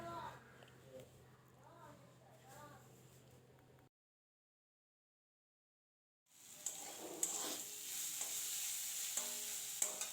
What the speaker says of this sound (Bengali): পেঁয়াজটা খুব ভালো করে ভাজা করে নেব।